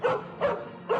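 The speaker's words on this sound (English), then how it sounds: "I'm sorry, that's my dog, Rocky." A dog gives three quick, close barks in an even rhythm, each short and sharp, with no talking.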